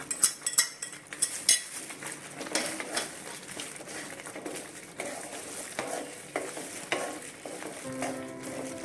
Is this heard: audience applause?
no